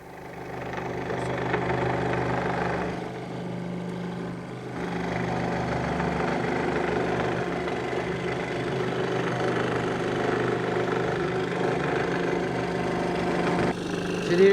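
A saw with a fine, precise blade cuts a 2 cm thick hardwood plank for making wooden toys, giving a steady, even motor drone that runs without a break from start to finish.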